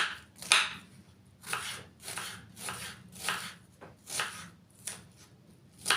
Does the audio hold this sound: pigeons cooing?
no